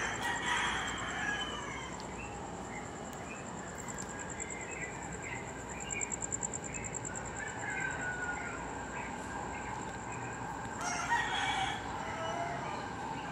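A rooster crows outdoors, several drawn-out calls across the stretch, mid-distance, with other fowl clucking and a high steady whine in the background.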